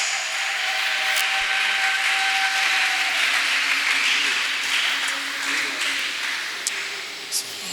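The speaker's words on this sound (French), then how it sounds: "You can clap your hands, you can put your hands together for Christ" A church congregation claps its hands at a Sunday service, producing a dense, steady wash of applause throughout, with faint voices and tones underneath.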